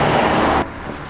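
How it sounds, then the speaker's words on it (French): Steady roadside car traffic rushes past at a busy roadway, a broad loud wash of engine and tyre noise that drops abruptly to a quieter background rumble partway through. "Désolé pour le bruit parce qu'on est au bord de route,"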